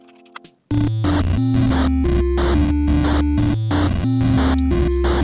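Looping chiptune background music from a Pyxel-made video game kicks in after a brief quiet moment, a loud, busy retro melody over a pulsing bass line with steady rhythmic beats.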